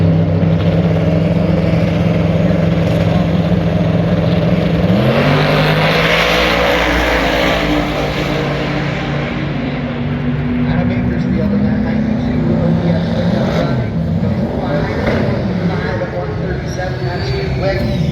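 Drag racing cars, LS-powered machines including a 1995 Mustang, launch from the starting line at a racetrack event. Loud engine roars rise and sweep in pitch over several seconds, with an announcer talking throughout.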